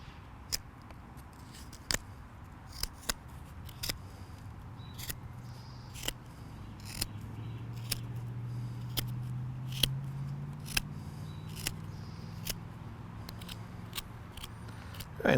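Pocket knife blade shaving and trimming the ends of a small wooden plug cut from a tree branch, sharp scraping clicks and snaps repeating irregularly over a low hum, close and fairly quiet.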